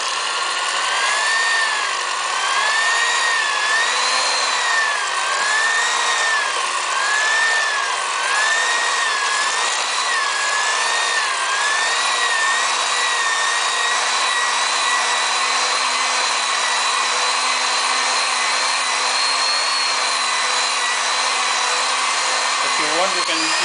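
An electric hand mixer runs steadily while beating sugar into plum cake batter, a loud continuous motor whine with wavering pitch as the beaters move through the mix, ending with a brief clatter.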